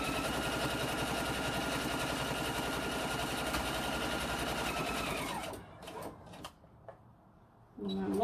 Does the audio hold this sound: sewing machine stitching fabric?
yes